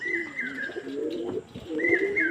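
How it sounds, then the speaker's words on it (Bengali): A flock of pigeons coos repeatedly, the soft rolling calls coming close and overlapping in two bursts over a low murmur of other birds. "দেখুন পুরো তা ভরে গেছে পায়রা"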